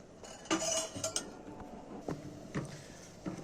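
A spoon clinks against a cooking pot several times while oil is spooned into mutton yakhni, with sharp metallic taps scattered through a quiet kitchen.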